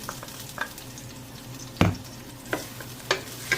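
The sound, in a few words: onion sautéing in cooking oil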